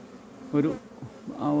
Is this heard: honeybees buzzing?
yes